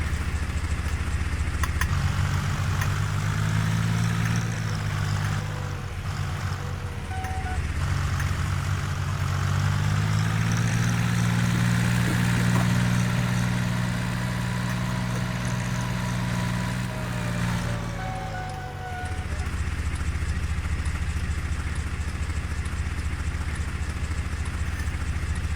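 A tractor engine idles in Farming Simulator 19, a low steady rumble with a slight rise and dip in pitch and a brief drop near the end before it settles again, with no talk.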